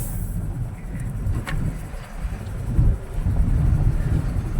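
A car driving along, a steady low rumble of engine and road noise with some wind buffeting the microphone, continuous throughout and fairly loud.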